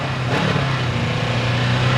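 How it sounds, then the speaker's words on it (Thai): A 2022 Honda CB500X motorcycle runs through its stock exhaust with a steady, loud engine drone recorded close up, after a brief rise in revs near the start, and no one talks. "มาฟังเสียงท่อกันหน่อย อัตราติดง่ายรอบเดินเบานิ่งอัตราเร่งเป็นไง"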